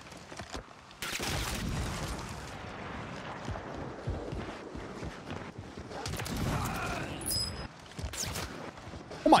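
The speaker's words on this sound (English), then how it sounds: "Oh my god, I've just been sniped at." Sniper gunfire in the Warzone video game: loud sharp shots and booming blasts crack through a busy, noisy battle mix over nine seconds, with a few distant reports and faint overlapping voices.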